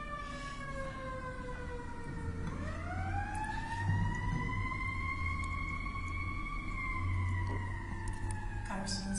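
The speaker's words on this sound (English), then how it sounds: "we have a siren again." An emergency vehicle siren wails outside a courtroom during a Colorado trial, a long rising and falling tone, muffled and distant over low room hum.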